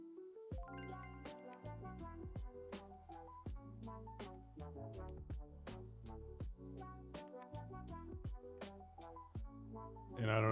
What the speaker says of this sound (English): that's the chiming that you hear in the background.